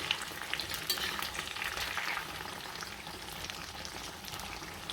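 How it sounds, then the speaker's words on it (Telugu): Green chillies fry in hot oil for a pickle, making a soft, continuous close-up sizzle with faint crackles, fairly quiet and without any voices. "ఇప్పుడు ఆయిల్ వేడెక్కిన దీంట్లో మేము ఈ మిరపకాయలను అయితే వేసుకుందామండి."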